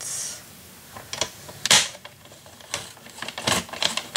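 A craft blade cutting through scored paper for a mini album: a string of sharp, dry clicks and scratchy ticks at an uneven pace, close and fairly crisp, with no voice.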